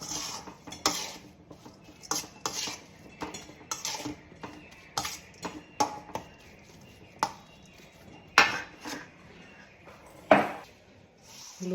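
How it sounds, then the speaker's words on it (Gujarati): Masala being stirred in a cooking pan with a metal spoon, giving a series of sharp, irregular clinks and scrapes against the pan, fairly close and alone. "નાખીને તેને હવે હલાવી દઈશું, એટલે બધે મસાલો મિક્સ થઈ જાય।"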